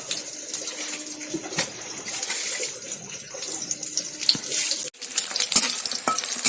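Tomatoes and chicken frying in oil in a pan, a steady hiss and sizzle with occasional crackles and spits, close and continuous throughout.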